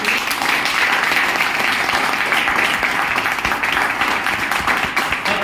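A company meeting audience breaks into loud, sustained applause, dense and steady for several seconds with a few voices faintly underneath.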